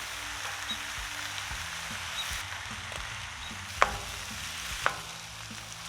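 Pastrami slices sizzling in a pan with a little canola oil, a steady soft crackle throughout with a couple of sharper pops, close and moderately loud, no voices.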